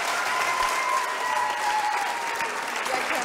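Steady, dense applause from a studio audience on a Slovak late-night television show, a continuous wash of many hands clapping at even loudness throughout, with a faint tone running beneath.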